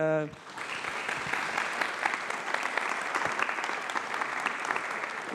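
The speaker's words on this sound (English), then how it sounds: "please an applause maybe" An audience at a talk on algorithms and AI in the workplace breaks into steady applause right after a brief spoken phrase, the clapping dense and even throughout, heard from a distance at modest level.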